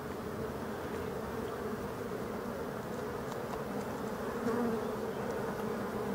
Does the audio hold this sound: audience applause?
no